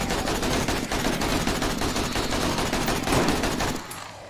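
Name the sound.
gunfire in video game 7 Days To Die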